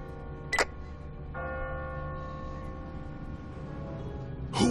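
A church bell in a bell tower in The Walking Dead game sounds a single sharp strike near the start, then a sustained ringing hum hangs at moderate volume before another strike lands right at the end.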